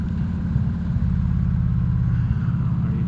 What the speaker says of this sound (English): This exhaust on this bike. It does get kind of loud after a long trip